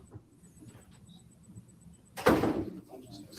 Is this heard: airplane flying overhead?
no